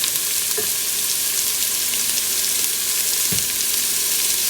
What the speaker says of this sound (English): Let's start sauteing the onion.